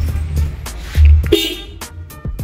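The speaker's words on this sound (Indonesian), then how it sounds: "Alarmnya kita sambung ke klakson." Car horn on a Toyota Altis, wired to the alarm, gives several short toots close by, with one longer blast in the middle and brief clicks between.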